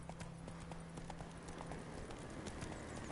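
Roach the horse gallops in The Witcher 3, steady rapid clip-clop of hooves under a constant low rumble of game ambience and music, moderately close.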